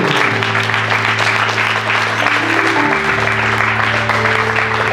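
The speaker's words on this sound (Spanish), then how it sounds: "Denle un aplauso al Señor." Congregation at a bilingual Spanish-English church service clapping in praise, a continuous loud wash of applause over sustained organ or keyboard tones.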